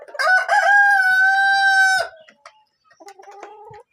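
A Colombian Light Brahma rooster lets out a loud, drawn-out crow close by, followed by softer, scattered clucking from the chickens.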